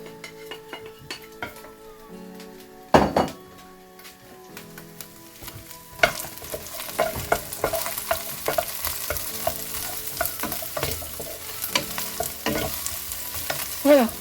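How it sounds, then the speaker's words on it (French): Onions fry for paella in a pan, a steady sizzle under repeated scraping and clinking of a utensil against the pan, with a quieter stretch first, then louder stirring and crackling close by. "Je vais mettre les oignons, on va les faire dorer pendant quelques minutes"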